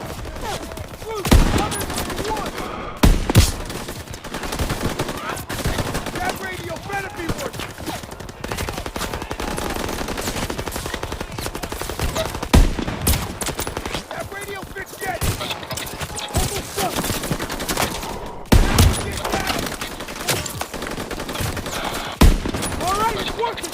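Heavy gunfire in Call of Duty WWII, with machine guns and rifles blazing almost nonstop in loud bursts and sharp cracks, while voices shout over the battle.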